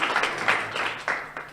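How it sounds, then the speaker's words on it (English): A small audience at a multilingual poetry event in a gallery gives brief, light applause, a soft patter of clapping with a few louder swells. "So I think a little round of applause for Robin."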